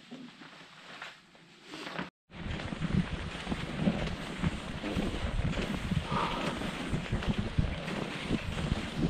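Wind roars and buffets against the microphone in a rough, continuous rush, with a brief dropout near the start, on a late-winter ski trek in Lapland's Kaldoaivi wilderness.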